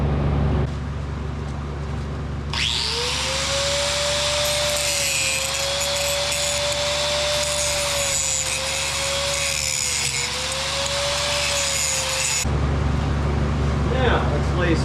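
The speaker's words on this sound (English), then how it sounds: "So I'm going to get in there with a grinder and grind that section out." An angle grinder grinds out a weld on a CAT 950K loader dog bone, a steady loud whine running about ten seconds with a gently wavering pitch, starting and stopping abruptly over a low background hum.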